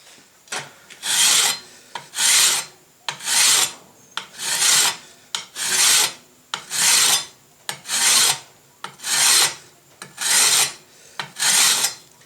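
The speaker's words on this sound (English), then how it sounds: "still got to do some filing and get these bevels set a bit better" A hand file rasps along the bevels of a forged broken-back seax blade in about ten evenly spaced, loud strokes, each a bright scraping pass followed by a brief pause.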